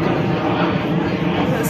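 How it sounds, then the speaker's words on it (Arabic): Airplanes flying over the Mokattam hills above Cairo: a steady, loud broadband roar that fills the whole stretch without a break. "سامعين صوت الطيارات؟ هنا في طيارات كتير قوي."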